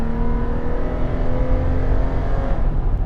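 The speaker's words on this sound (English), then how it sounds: "We have here the tried and true 4-liter V6." A 2024 Ford Bronco's 4-liter V6 drones steadily while driving, a constant engine hum with road noise heard from inside, with no talk.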